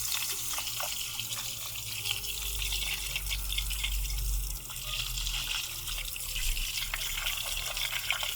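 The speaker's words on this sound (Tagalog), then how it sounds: "hugasan naman natin gamit ang tubig" Running water rinsing scooter CVT parts from a GY6 Burgman, a steady splashing flow with trickles and drips, close by and continuous, swelling slightly midway, with no talking.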